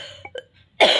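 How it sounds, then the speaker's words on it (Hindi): A woman coughs: a couple of short, quiet throat sounds come first, then one loud, harsh cough bursts out near the end. "इतना खांसी हुआ ना, मेरे सिर दर्द करने लगता है"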